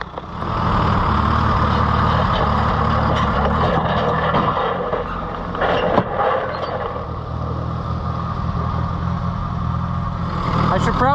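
An old engine runs steadily after starting, its loud, rough idle droning close by with slight surges, while a voice speaks over it.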